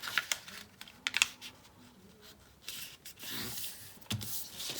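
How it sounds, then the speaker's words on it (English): A paper cootie catcher is folded in half, giving close, faint crisp rustles and a few sharp creasing scrapes, with quieter pauses between the handling sounds. "Now I'm going to start by folding it in half just to create some of those helpful guidelines"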